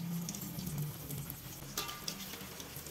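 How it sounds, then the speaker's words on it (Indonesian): Slices of breadfruit dipped in egg fry in hot oil over medium heat, giving a steady close sizzle with light crackles throughout and no speech. "Goreng sukun di minyak panas."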